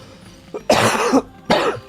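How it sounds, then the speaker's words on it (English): A person coughs close to the microphone: a small catch, then two rough coughs in quick succession, loud and alone. "A little bit of a cough."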